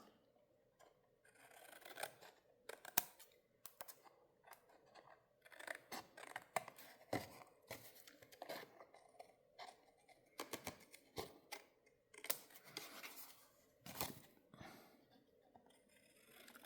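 Scissors snip through dried designer series paper while trimming excess edges for a Z-fold card, crisp close cuts in bursts with short pauses and faint rustling between them.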